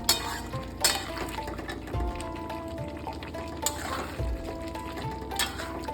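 Raw banana pieces stirred through half-cooked fried potatoes in a pan for a Bengali kacha kolar dalna, with steady sizzling and frying under repeated scraping and clinks of a spoon against the pan.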